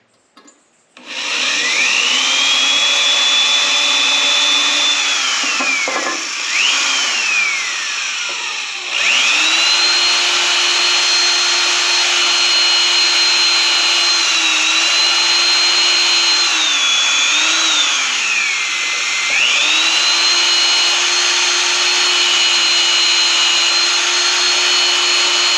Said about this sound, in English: we're going to drill these holes and pop the pin in